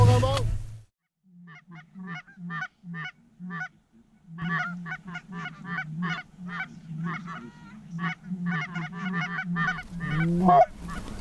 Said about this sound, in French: Il y a des oiseaux partout, il y a des oiseaux partout.